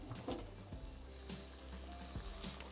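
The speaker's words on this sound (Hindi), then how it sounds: "और अब इसकी मैंने मज़ीद भुनाई करनी है प्याज और चिकन की।" Chicken pieces and onions fry in a pan with a steady sizzle and crackle, and a few scraping stirs break through it.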